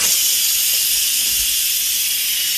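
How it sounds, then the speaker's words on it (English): Loud, steady hiss of steam escaping from a pressure cooker valve, continuous and close up with no pauses. "Time to relieve the valve."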